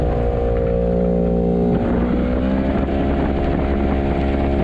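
A racing motorcycle at Automotodrom Most rolls along the track with the throttle held slightly open, a steady loud engine drone with harmonic whine that stays close and continuous throughout.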